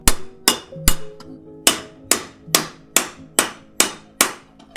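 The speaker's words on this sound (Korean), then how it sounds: "아직 열기가 남아있어 부드러운 은 덩어리를 망치로 때려가며 얇게 펴줍니다" Sharp metal hammer strikes ring out one after another at a steady pace on a still-warm lump of silver being flattened, about ten blows, close and loud, with no voices.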